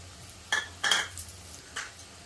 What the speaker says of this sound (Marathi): आता थोडं मिक्स करते।